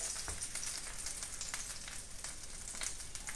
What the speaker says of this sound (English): And now we need to fry them on the pan.